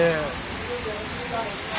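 Heavy rain pours down in a dense, continuous wash of noise, with a voice talking over it for the whole short stretch.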